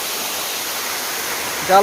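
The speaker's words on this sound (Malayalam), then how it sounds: "ബാക്കിൽ കാണുന്നതാണ് വെള്ളച്ചാട്ടം" A steady, even rush of falling water at Paloorkotta waterfall in Kerala fills the air, and a voice starts to speak just at the end.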